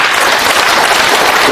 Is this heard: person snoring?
no